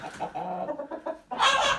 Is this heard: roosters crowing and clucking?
yes